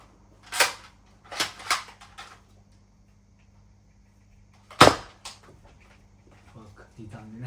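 Sharp snapping shots from a toy gun in a shooting competition: a few quick cracks early on, then a louder, closer pop after a pause, with faint voices and small clicks around them.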